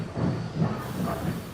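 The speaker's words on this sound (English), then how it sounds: "Gordon steamed into the station to collect the Northwestern Splendor" Steam engine train pulling into a station, a steady rumbling chug with hissing, moderately loud and continuous.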